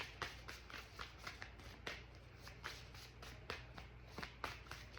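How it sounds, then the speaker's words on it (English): Playing cards shuffled by hand during a tarot-style reading, a steady run of soft riffling and flicking bursts, close and quiet, with no voices. "I'll shuffle one more time."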